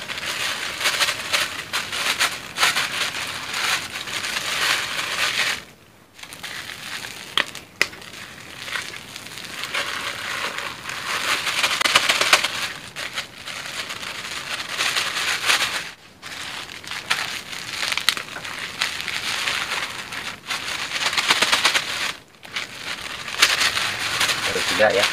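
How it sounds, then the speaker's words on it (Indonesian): A torn 1 kg bag of wheat flour is handled and tipped out for cakwe dough, giving repeated plastic crinkling and crackling with soft pouring rushes and a few brief pauses. "Sekarang kita masukin ya terigunya"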